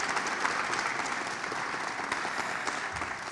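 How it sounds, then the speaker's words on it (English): Graduates of a county citizens academy receive a steady round of applause at a ceremony, the audience clapping continuously and evenly at moderate volume. "So give yourselves a round of applause."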